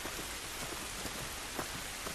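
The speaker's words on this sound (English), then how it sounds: "This rain ain't gonna do us any good." Rain in the video game The Last of Us, a steady, dense hiss of falling drops on surfaces with faint patters here and there, continuous and fairly quiet throughout with no voices.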